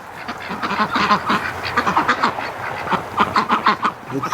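A group of young ducks quacking and chattering nearby in a busy, uneven flurry of calls that keeps up with no pause.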